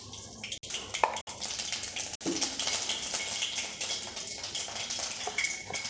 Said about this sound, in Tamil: கடுகு நல்லா பொரிஞ்ச பிறகு